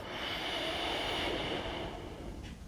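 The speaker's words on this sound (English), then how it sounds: "Yes, sniffing in again like I do" A person takes a long, close, breathy sniff of a zesty fragrance, a continuous airy inhalation lasting about two seconds that tapers off at the end, with no speech.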